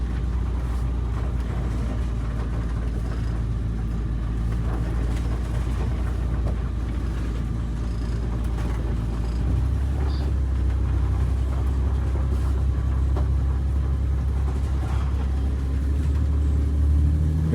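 An Eagle bus drives along a highway, its engine rumbling low and steady with continuous road noise throughout and a slight rise in the low drone near the end; no one speaks.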